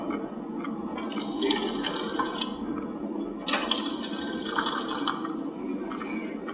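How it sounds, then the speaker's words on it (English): Fresh water runs from the sink of a combination toilet and sink, a steady close splashing trickle with small drips and gurgles, no voices. "the sink provides fresh water"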